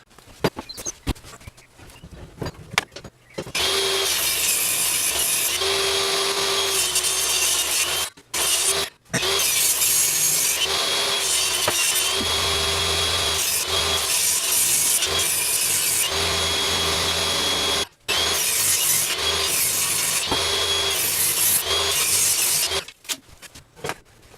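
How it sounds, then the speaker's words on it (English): Recycled wood is cut into pieces with a hand saw, a loud, close rasping stroke that runs steadily for long stretches with a few brief pauses. "I've just cut these 4 pieces of wood, and again this is actually recycled wood"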